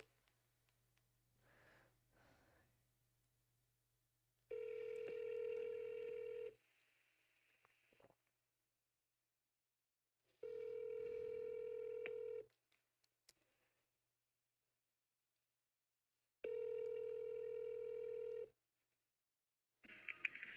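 Telephone dialing and ringback tones while calling a Vans shoe store, with three long regular tone bursts separated by silence, faint breathing in the gaps and a brief clatter at the end.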